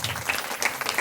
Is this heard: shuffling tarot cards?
no